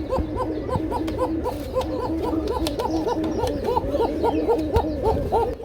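Many pigeons coo together at a pigeon market, overlapping, throaty rolling calls, close and continuous, forming a busy chorus.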